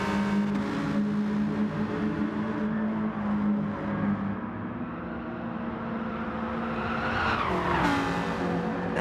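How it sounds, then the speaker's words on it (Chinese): Race cars in Gran Turismo Sport, a GR.4 class online race, roar steadily while their tires squeal and skid through corners. Engine drone and tire noise continue loudly together, with a sharper squeal near the end. "那轮胎都发出滴滴的声音了。"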